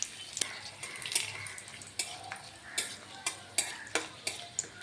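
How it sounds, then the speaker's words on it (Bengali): Dried red chillies and bay leaves fry in hot oil in a kadai for rajma, a soft steady sizzle broken by sharp scraping stirs that come roughly every half second and grow more regular toward the end. "এখন শুকনা মরিচ আর তেজপাতা দিলাম।"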